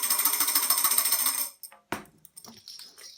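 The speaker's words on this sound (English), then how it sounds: "tambourine," A tambourine is shaken in quick, rhythmic jingling strokes for about a second and a half, followed by a few scattered, looser rattles and taps.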